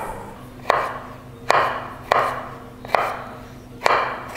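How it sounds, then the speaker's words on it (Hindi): A chef's knife dices a carrot on a cutting board with five crisp, evenly spaced chops, close and distinct, each followed by a short fade. "तो मैं देखिए मैं ऐसे ही काट रहा हूँ, इसको आप डाइस में काट सकते हैं इस तरह से"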